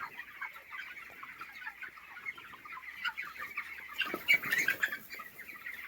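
Chickens on a poultry farm, 21-day-old birds, cluck in a continuous busy chorus that swells louder toward the end, with many overlapping calls and no voices.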